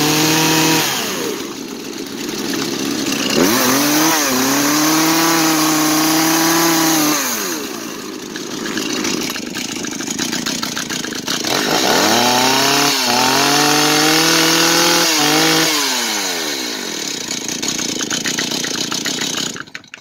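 A small engine, one of several being restarted after quitting from too little idling, starts and revs loudly nearby, climbing and falling in pitch through repeated throttle blips over a steady running drone.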